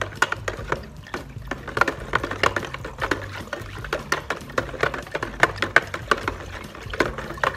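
Pool chemical being stirred into water inside a small plastic bag, with quick irregular clicks and light watery swishes repeating steadily at close range throughout.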